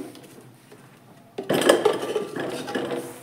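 Raw green bananas dropped into a metal pressure cooker, a sudden clattering of pieces landing partway through, followed by a ringing metallic rustle as they settle, after a quiet start.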